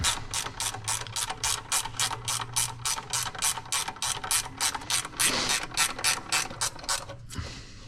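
Ratchet loosening the oil filter canister bolt on a 1954 Chevrolet Bel Air with a 235 engine, a close, steady run of about twenty-five sharp clicks in even strokes, then a brief clunk as it stops.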